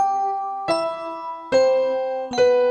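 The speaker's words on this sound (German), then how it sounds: "Wir haben am Anfang hier diese zwei Glockenspielspuren." Bright glockenspiel tones layered over a soft piano, struck in three clear chimes with ringing harmonic sustain, played alone without any voice.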